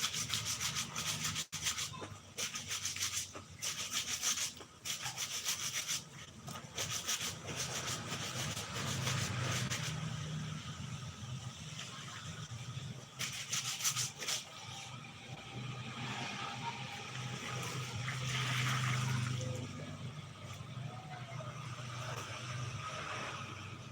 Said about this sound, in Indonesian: Kayak gitu aja sikatnya. Cepat kan? Karena aku udah rendam pakai rinso dari